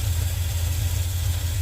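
International Harvester Scout engine idling steadily, a continuous low rumble with even, pulsing low-end throb, close and fairly loud, no talk.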